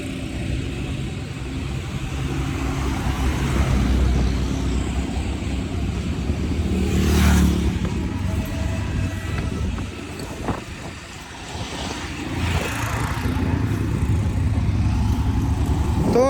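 A motorcycle travels on the road from Chattogram toward Cox's Bazar, with a continuous loud engine drone and rushing wind and road noise, swelling occasionally as traffic passes.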